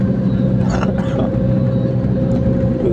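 Steady, loud interior drone of a long-distance bus travelling from Lima to Guayaquil, a constant low engine rumble and road noise filling the cabin with no break.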